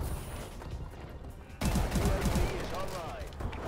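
Rapid bursts of S12 gunfire in Call of Duty: Advanced Warfare, a tight cluster of sharp shots after a quieter opening, layered over game ambience.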